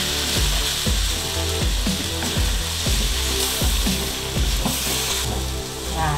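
Chicken pieces fried in a pan with spice paste for opor ayam, a steady loud sizzle overlaid with repeated rhythmic scraping strokes of stirring, no voices.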